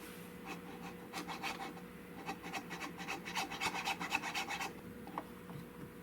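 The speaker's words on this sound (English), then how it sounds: "That's where a chainsaw file comes in handy." Steady back-and-forth rasping of a chainsaw file on a metal part of a .410 garden gun, a series of regular strokes at close range, fairly quiet, with no talking.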